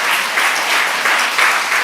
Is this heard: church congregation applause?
yes